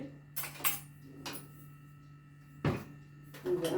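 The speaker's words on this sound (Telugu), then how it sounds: "ఇప్పుడు బాండలు పెట్టి బాండట్లో ఒక స్పూన్ నెయ్యి వేసుకోండి" A pan set on the stove and a spoonful of ghee added in a home kitchen, heard as a few scattered metallic clinks and one louder clatter of cookware and spoon, close by with no talking.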